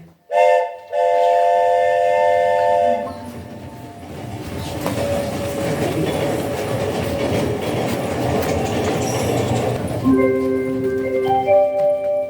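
Train sound effect with a whistle-like harmonic tone at the start, then rolling rumble and clickety-clack of railroad cars, ending with another tonal horn-like chord; loud and continuous, no voices.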